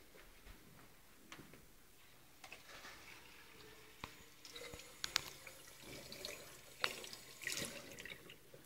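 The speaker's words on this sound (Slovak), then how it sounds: "Teraz ju idem naplniť vodou." Water runs quietly into a bottle with small holes around its sides, a soft low trickle with scattered clicks and taps as the bottle is handled.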